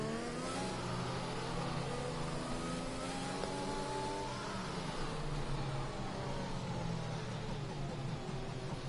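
Mercedes safety car in a racing video game at the Azerbaijan circuit, engine droning and revving steadily through shifting gear tones, loud and continuous throughout.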